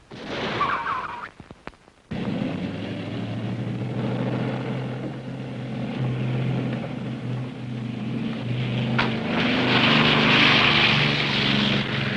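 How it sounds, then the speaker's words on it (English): An airplane takes off with a steady, droning engine roar that builds and grows louder, following a few brief clattering sounds at the start. "They just took off in the airplane."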